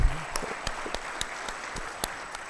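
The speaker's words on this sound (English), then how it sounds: "Once again, a round of applause to Makerere University." Applause for Makerere University at a memorial lecture, sparse and thinning clapping with a few sharp, distinct claps standing out over a light background, fading toward the end.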